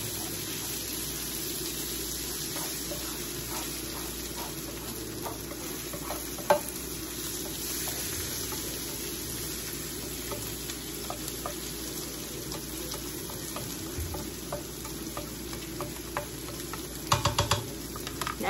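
Philly cheesesteak meat frying in a pan while being stirred, a steady close sizzle with scraping and occasional clinks of the utensil, continuous and without talking.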